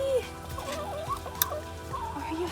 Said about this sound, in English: Let's let the chickens out.